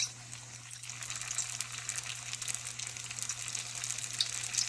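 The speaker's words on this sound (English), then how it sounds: "So I'm going to just put it in a deep, you're going to deep fry it." Crab rangoon deep frying in hot oil, a steady bright crackle and sizzle with small pops scattered throughout, close and moderately loud, with a low hum underneath and no talking.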